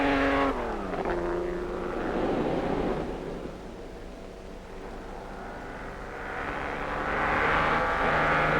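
Ferrari race cars battling at the front in a 1960s race, with engines roaring past: a loud passing engine drone that sweeps down in pitch, followed by a steady rumble that swells again as more cars approach.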